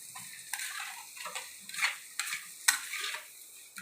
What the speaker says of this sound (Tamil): எண்ணெய் காஞ்சிச்சு. மசாலா போட்டுக்கணும்.